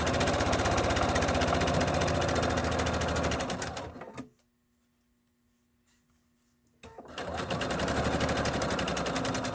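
A sewing machine stitches a zipper bag in a loud, close, rapid mechanical run that cuts off into near silence for about three seconds, then starts again at full speed.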